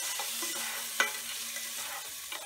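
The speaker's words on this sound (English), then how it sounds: "All the vegetables sauteing," Chopped vegetables, garlic and shallot sauté for a beef ragu, giving a steady, close hiss of sizzling with a single sharp clack of a stirring spoon partway through.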